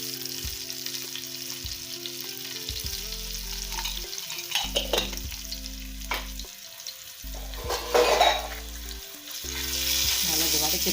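Ginger garlic paste and spices with a pinch of asafoetida sautéing in oil for potato bonda filling, a steady sizzle with scraping stirs and clatters throughout, over a droning tonal background.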